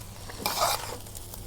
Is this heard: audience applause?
no